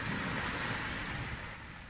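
Ocean waves at night heard from the shore along the Camino de Santiago, a steady broadband surf roar with low rumble and a slight fade, no voices.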